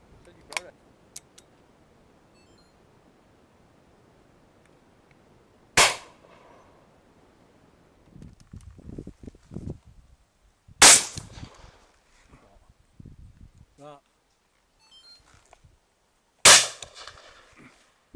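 Four sharp, loud shotgun reports ring out outdoors during wood pigeon shooting, spaced roughly five seconds apart, each with a short echoing tail; low murmured voices and small rustles fill the quiet gaps between shots.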